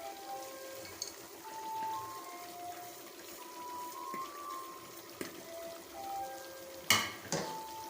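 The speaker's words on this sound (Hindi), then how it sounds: "अब हम मसाले की अच्छी तरह से भुनाई करेंगे तेज़ आंच पे" Masala spices sizzle in a pan over high heat with softened tomatoes, part of a chicken biryani; a steady crackling hiss runs throughout with brief clinks, and a louder scrape or splash near the end.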